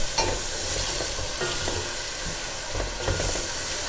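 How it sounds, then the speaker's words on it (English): Onions are stirred in plenty of olive oil in a stew pot for a Greek pork stew, close sizzling and frying with several scraping spoon strokes, no talking. "I always like to give it a good stir in now and then to make sure that the onions are not stuck at the bottom."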